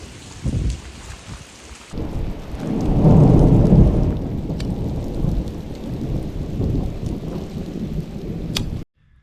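Thunder rumbles loud and close through a steady downpour of rain, the roll swelling in the middle and then settling into continuous rainfall on surfaces during a storm near the water.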